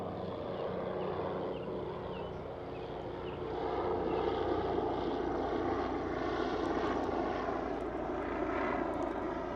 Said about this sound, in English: it's literally a helicopter flying above